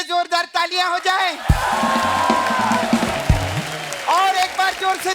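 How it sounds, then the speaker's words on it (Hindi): A television comedy show's studio audience bursts into applause and cheering for a guest, a loud sustained crowd roar between voices and music, close and full. "हमारे गेस्ट के लिए जोरदार तालियां हो जाए"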